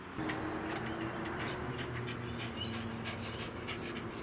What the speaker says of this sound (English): my dog really loves me today